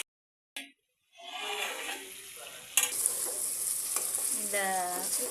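Goat head and trotters curry frying in oil in a pan: after a brief quiet start, a loud, steady sizzle builds, with stirring and scraping sounds breaking through it up close.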